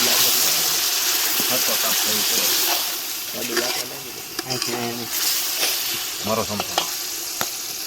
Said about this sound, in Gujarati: ડુંગળી બધી નાખી દેવાનું, પહેલે નહીં નાખવાનું. પછી આને હલાવવાનું.